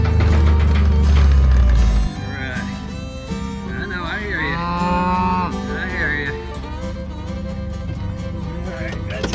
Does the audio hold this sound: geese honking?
no